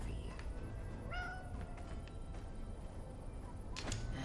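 A cat meows in the video game Desperados III, clear and mid-distance over steady game ambience, with a couple of short rising calls.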